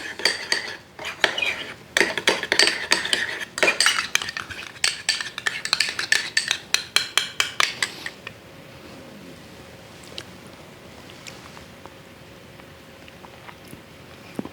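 A spoon stirs hickory syrup and ketchup in a bowl, with quick rhythmic scraping and clinking up close for several seconds. It then fades to a quiet room hum with faint, scattered taps.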